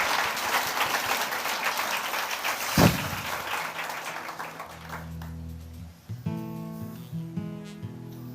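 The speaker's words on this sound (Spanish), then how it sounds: "Démosle un aplauso al Señor." Church congregation applauding during a service, a dense broadband clatter of many hands that swells with a sharp peak near the middle, then fades as sustained organ or keyboard chords and music take over.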